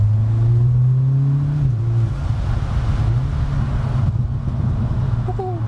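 Exhaust of a 370 bhp Stage 1 Audi S3 Saloon, a loud steady low drone with a brief pitch dip and recovery as revs shift, heard close throughout with no talk.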